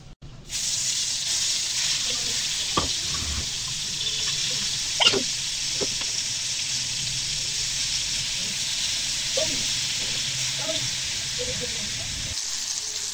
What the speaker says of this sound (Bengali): এখন মাছগুলো ভেজে নেব।